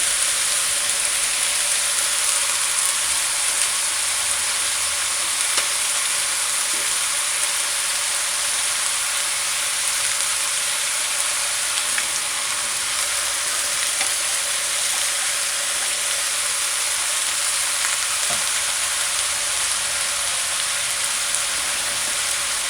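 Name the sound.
cabbage stir-frying in a pan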